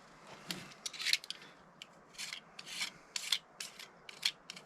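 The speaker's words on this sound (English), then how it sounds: "Super lightweight sand with maybe 120 grit." Hand sanding of gel coat with 120 grit sandpaper during a trimaran refit: repeated rasping strokes in uneven bursts, close and fairly loud, with no talking.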